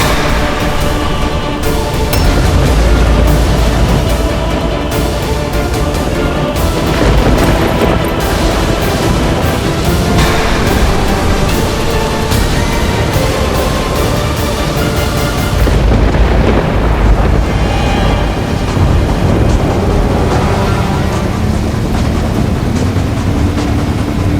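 Thunder rumbling as a sound effect in a Hindi mythological Ramayan TV serial: a loud, dense, continuous roll of deep booming that swells and surges throughout with no break and no talking.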